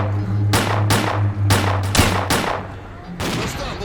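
Pistol fire in S.T.A.L.K.E.R.: Clear Sky: about six loud, sharp shots in quick, slightly irregular succession over a steady low hum, with one final shot after a short pause.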